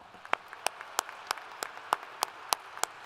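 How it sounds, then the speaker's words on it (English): Sparse, crisp hand claps sound at a university commencement ceremony, sharp separate claps in a quick, fairly regular rhythm, moderately near, with no talking. "Please join me in a round of applause."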